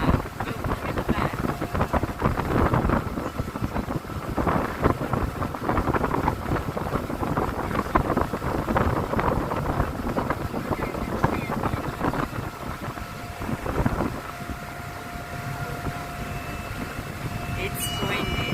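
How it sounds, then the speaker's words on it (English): Gusty wind buffets the microphone beside Loch Ness in Scotland, a loud, rough roar that swells and dips throughout, with voices talking over parts of it. "It's windy."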